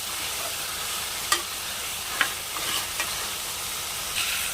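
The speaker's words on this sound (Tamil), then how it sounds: "இந்த ஆயிலே ஒரு 2 நிமிஷம் நல்லா வதங்கட்டும்" Food sizzles steadily in hot oil in a green gram curry, a constant hiss with a few soft scrapes and clicks of stirring.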